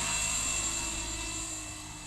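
Steady high-pitched whine of a Blade 250 CFX RC helicopter's three-blade rotor head and motor in flight, constant and unbroken, fading very slightly over a couple of seconds.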